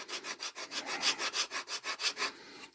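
Hand sanding an olive wood rectangular platter on a lathe with 600 grit paper, a rhythmic series of about a dozen close, even rubbing strokes.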